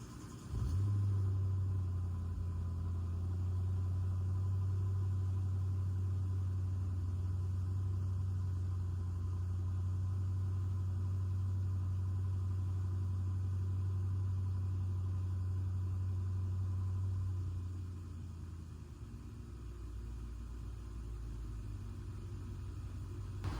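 A BMW 750i engine starts cold and settles into a steady, loud low idle rumble that holds for most of the time, then drops slightly quieter near the end.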